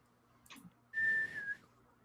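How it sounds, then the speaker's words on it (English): A whistle sounds as a stage-play sound effect: one clear, bright, steady tone of about half a second, loud and alone after a brief softer noise. "Then Silver brought out a whistle."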